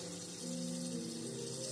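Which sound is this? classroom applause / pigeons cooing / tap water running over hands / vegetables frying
tap water running over hands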